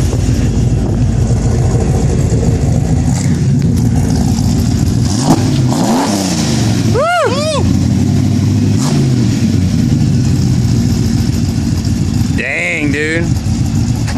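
A supercharged Dodge Dakota R/T with a 5.9 engine revs hard in a couple of rising and falling bursts, climbing toward high RPM over a steady rumbling idle, with people talking nearby.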